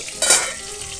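Eggplant fries and is stirred in a hot pan, giving a close, loud sizzle with a sharp scraping surge in the first moment that settles into steady crackling.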